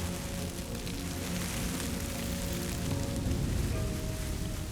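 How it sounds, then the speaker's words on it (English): Rain falls steadily on savanna grassland, a dense, even patter that stays close and fairly loud throughout, with no voices. "Once it rains, the land is soon green again."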